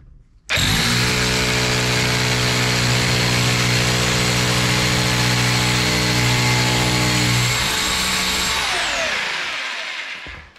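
A Tacklife 1050W rotary hammer drill with a 16 mm bit starts abruptly and runs loud and continuous for about eight seconds, a harsh whining motor with hammering grind, then winds down with a falling whine.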